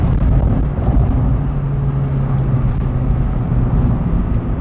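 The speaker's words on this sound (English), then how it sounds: "As you hear, glorious intake." A loud, steady engine and intake roar from inside a 1998 Acura Integra RS, a deep continuous drone with a rising rumble as it accelerates, with no talking.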